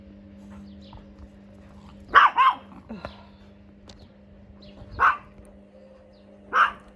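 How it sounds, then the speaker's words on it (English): Dobby, a dog out in a garden, lets out a quick double bark, then two more single barks spaced a few seconds apart, loud and fairly close over a low steady hum. "There's me trying to video the garden and this dog won't shut up."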